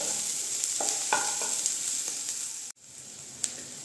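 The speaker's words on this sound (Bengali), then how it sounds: "দিয়ে এটাকেও আমি হালকা করে ভেজে নেব।" Onion, ginger and garlic fry in a pan with a steady, close sizzling hiss, broken by a few soft stirring scrapes and one brief cut in the sound.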